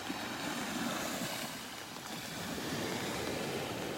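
Gentle, continuous wash of small waves lapping at the shore of a beach in North Naples, Florida, a soft broadband hiss with faint rhythmic swells and no talking.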